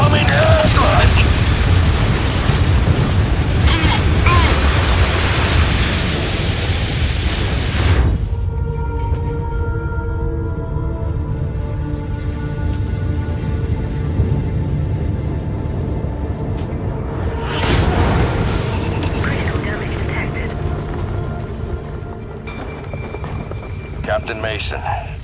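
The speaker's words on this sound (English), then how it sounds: "Incoming airstrike!" Airstrike explosions in the mech combat game MechWarrior 5: Mercenaries, a loud sustained roaring blast that cuts off abruptly, then a quieter hum with tonal machine noise, and a second roar surging in near the end.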